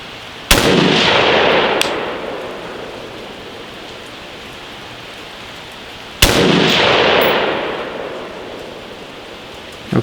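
Two sharp, loud gunshots from an AR rifle with a 7.5-inch barrel, spaced several seconds apart outdoors, each trailed by a long fading echo.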